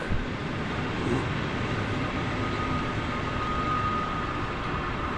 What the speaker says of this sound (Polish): wjeżdża pociąg Nida w końcowej części składu jest grupa wagonów do stacji Białystok